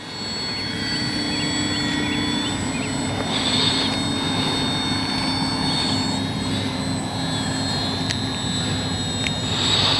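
An FMS Ranger 1220 RC plane flies in beginner mode, its electric motor giving a steady, sustained whine that swells slightly at times, with no talk over it.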